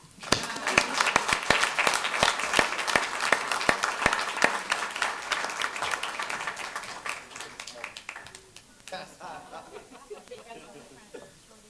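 Audience at a city council meeting claps loudly with sharp individual hits, some chuckling and chatter mixed in, then the applause fades into quieter murmuring over the final few seconds.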